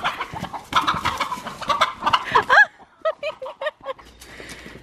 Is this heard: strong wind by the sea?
no